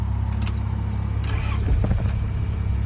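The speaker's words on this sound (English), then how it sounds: "Now we'll try and start the dead vehicle." Dead vehicle's engine cranking and catching after a jump start on a truck, a steady close engine rumble with a brief rising surge partway through.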